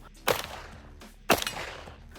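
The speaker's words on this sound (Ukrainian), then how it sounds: "Стріляли ще по ним з пістолета тульського" Two sharp, loud gunshots from a Tula pistol fired at armored plates ring out about a second apart, each with a short echoing tail, with no talking.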